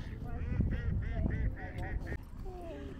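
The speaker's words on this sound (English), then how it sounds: "Lots of ducks." Ducks honking and quacking at a park fountain in Fountain Hills, Arizona, a run of repeated nasal calls close by over a steady wash of water and outdoor background.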